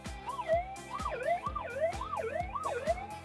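A Minelab GPX 6000 metal detector sounds a loud target signal: a repeated wavering, siren-like tone rising and falling about once a second as the coil sweeps, with no talking.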